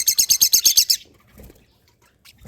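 Pet lovebirds chirp in a quick run of about eight sharp, bright, evenly spaced notes, followed by quieter faint rustling and scattered softer sounds.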